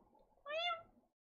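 A single human voice imitates a cat's meow, one rising then falling nasal mew lasting about half a second, close and fairly clear over a faint murmur, ending in silence.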